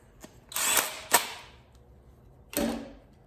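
A power tool whirs in short bursts while running in a bolt on a 2.0T engine, two quick runs close together, a pause, then another brief burst.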